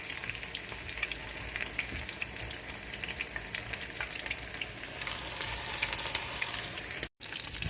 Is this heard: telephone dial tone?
no